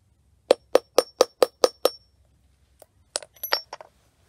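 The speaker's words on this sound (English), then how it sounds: "this was the pointy end of the nail, but it's flat now that I've been using it to hammer" A hammer strikes a nail into an 18650 lithium-ion battery with seven quick, evenly spaced metallic clinks, close up. After a pause a few lighter, irregular taps and clatters follow.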